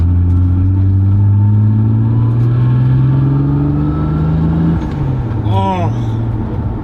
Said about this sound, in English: A turbo Supra that just makes all the right noises and makes all the power.